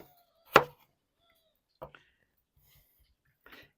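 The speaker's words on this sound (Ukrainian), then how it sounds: "Нарізаємо нашу картопельку отакими брусочками." A knife chops potatoes into sticks sharply on a board, one loud cut followed by a couple of softer cuts, with quiet pauses between.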